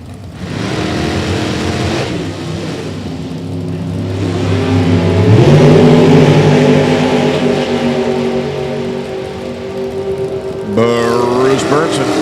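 A 1970 Mustang and a 1967 Camaro drag race, their engines roaring and revving up in long rising sweeps at a drag strip, loud and close, with an announcer talking over the noise.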